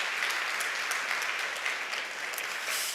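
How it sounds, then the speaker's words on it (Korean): A church congregation at a Korean Sunday service claps in welcome, giving a continuous, even wash of applause from many hands for the full three seconds. "일어서시면 환영의 박수를 드리겠습니다"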